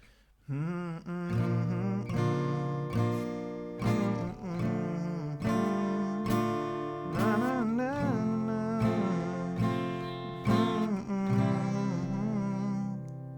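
Acoustic guitar chords ring out, each struck with a single strum and left to sustain before the next, played close and alone.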